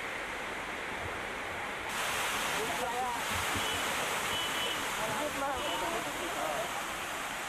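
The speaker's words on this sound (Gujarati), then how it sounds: "ધોધ સજીવન થયા છે" A waterfall revived by the rains roars continuously, a dense broad rushing wash that grows louder after the first couple of seconds and stays steady, with no talk over it.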